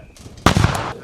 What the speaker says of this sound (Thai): กดปุ่มควบคุมทางไกลเพื่อดำเนินการทำลายระเบิดที่บ่ทันแตกอย่างปลอดภัย